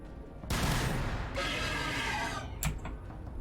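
Grenade blasts in the Warhammer 40,000: Battlesector video game: a rumbling explosion bursts in, then a second blast with crackling debris follows, and a sharp final bang comes near the end, loud and close, with no talk.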